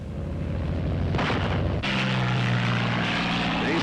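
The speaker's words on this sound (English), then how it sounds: "At the fighter fields, Thunderbolts are ready." Thunderbolt fighter aircraft engines from 1944 roar continuously at a fighter field, a loud steady propeller drone that shifts to a deeper throbbing tone partway through.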